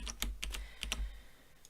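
Typing on a computer keyboard while writing Kotlin code for Android: a few quick clusters of close key clicks, then a pause with faint background hum.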